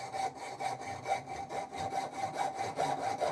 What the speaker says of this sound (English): Junior hacksaw, move the bolt of the vise out of the way, cut through it, nice and gentle, use the whole length of the saw